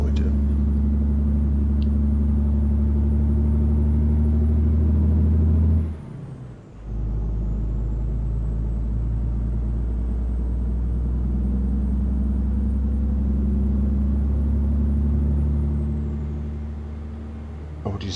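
A 600 hp truck in American Truck Simulator rumbles steadily and loud, with a brief dip midway like a gear change or air brake release before the engine drone resumes.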